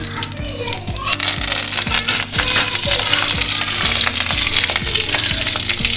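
Curry leaves crackle and sizzle loudly in hot oil in an old kadai, a continuous close spitting hiss with sharp pops throughout, a voice talking over it.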